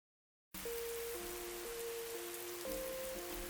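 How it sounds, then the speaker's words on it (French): Steady rain falls on an outdoor surface, a continuous even hiss that starts abruptly and holds at a constant level, with a faint tonal hum running beneath it. "Et voilà, il pleut."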